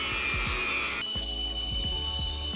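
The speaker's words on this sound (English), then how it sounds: "Time to get the grinder out." A power grinder whines steadily at close range during an electric conversion of a 36ft sailboat, its harsh high-pitched drone shifting tone partway through with rhythmic low thumps underneath.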